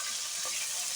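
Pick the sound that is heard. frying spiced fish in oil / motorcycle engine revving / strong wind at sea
frying spiced fish in oil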